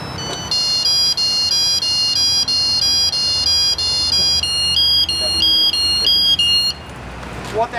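A firefighter's motion alarm device sounding a loud, rapid electronic chirping pattern of repeated high beeps that continues steadily for several seconds before stopping, with faint room noise underneath.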